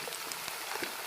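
Chicken pieces frying in a pan with oil for a bottle gourd and chicken curry, a steady close sizzle and crackle with scattered pops and no talking.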